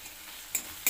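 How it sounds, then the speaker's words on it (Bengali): Onion and garlic frying in oil for a fish, potato and eggplant dish, a brief steady sizzle with two quick sharp stirring scrapes near the end. "পেঁয়াজটা একটু হালকা করে ভেজে নেব। রসুনটাও দিয়ে দেবো আমি।"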